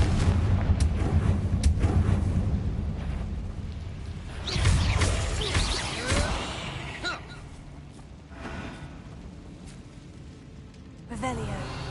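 Confringo fire-blast spells from Hogwarts Legacy on PS5 go off as several booming, crackling bursts, the loudest near the middle, over steady game music with a voice speaking at times.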